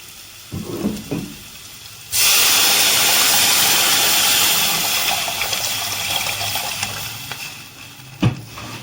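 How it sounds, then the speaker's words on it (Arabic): Water poured into a hot pan of frying garlic bursts into a loud, sudden sizzling hiss that holds for several seconds and then slowly fades, with a few faint kitchen clatters before and after. "هنزل عليه بقى بايه، بالميه"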